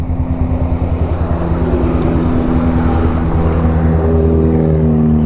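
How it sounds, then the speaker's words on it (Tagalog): A heavy truck labors uphill on a road near a bridge construction site, its deep engine droning steadily and loudly without a break. "Hirapan yung truck, ha."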